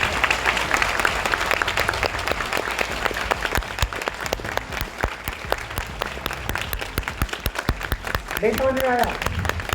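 Audience at a success training seminar clapping, a dense, loud run of applause lasting throughout, with someone speaking briefly near the end.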